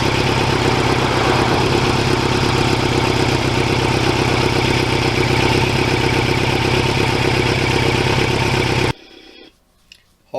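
A 1989 Kawasaki Ninja GPX750R motorcycle ridden along back roads gives a loud, steady engine drone with wind rush, cutting off abruptly near the end into quiet.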